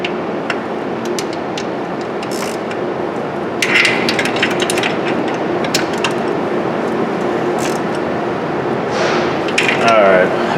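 Ratchet snugging cylinder head bolts on a Jeep 4.7 engine, close rapid clicking of the pawl in several short runs over mechanical rattles and shop noise.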